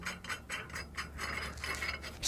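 Nuts on U-bolts holding a leaf spring to the rear axle of a GM OBS Chevy or GMC truck are tightened with a ratchet, giving a close series of quick clicking bursts with no talking.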